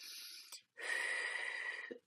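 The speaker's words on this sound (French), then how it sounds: "Aspirez, vous pouvez travailler avec la bouche, vous expirez par la bouche, vous expirez par le nez." Two audible breaths for a breathing exercise, a short airy inhale then a longer, louder rushing breath through the nose or mouth, close and alone with no talk.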